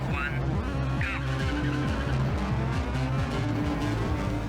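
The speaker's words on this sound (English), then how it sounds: "getting hit launches you to Narnia with an incredible crash" Cars in a racing video game's Fireball arcade mode skid and crash, with a steady loud engine drone and rising tire squeals over constant game noise, no clear talk.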